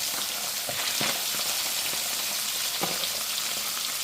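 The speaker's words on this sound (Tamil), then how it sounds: "மீன் பொரிக்கும் போது மட்டும் நீங்கள் சிறு தீயில் வச்சு தான் பொரிக்கணும்" Steady broadband sizzle of fish frying in hot oil over a low flame, with occasional soft pops and stirring knocks, continuous and fairly close.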